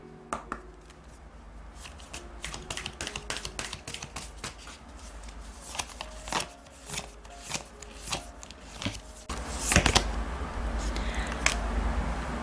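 Oracle cards being shuffled during a tarot reading, a series of crisp riffling and slapping bursts of card flicks at an irregular pace, close and fairly quiet, ending in a denser rush of shuffling.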